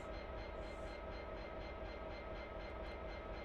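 Steady rumbling run of a train on the Settle to Carlisle line in a train simulator game, a continuous low roar with faint rhythmic wheel clatter, loud and unbroken.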